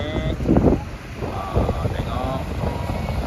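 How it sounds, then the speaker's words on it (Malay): Strong wind buffets the microphone outdoors in a busy open-air setting, a steady rushing roar with gusty swells, while voices talk faintly underneath. "Angin pun ada kuat sikit ni."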